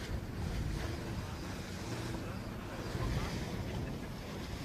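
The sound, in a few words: waves hitting a racing sailboat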